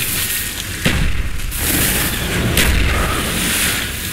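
Frag grenade going off in a first-person shooter video game, loud booming blasts with sharp bursts near one second and two and a half seconds over a roaring battle din.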